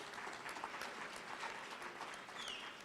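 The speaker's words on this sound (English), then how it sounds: "round of applause" An audience at a formal NAACP branch Freedom Fund awards event gives a steady, dense round of applause, many hands clapping continuously at an even level throughout.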